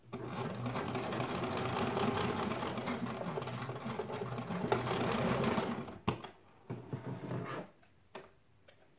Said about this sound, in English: And we're just gonna sew down the long edge.